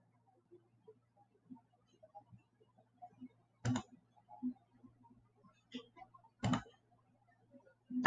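Computer mouse clicks while drawing a polygon in CAD software, a few sparse, isolated clicks in near silence.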